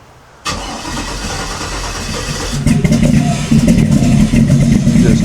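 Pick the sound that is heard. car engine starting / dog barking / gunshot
car engine starting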